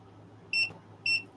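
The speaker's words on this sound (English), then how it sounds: "We have two beeps." Two short, bright electronic beeps about half a second apart from a device during calibration, clean and tonal over a quiet background hum.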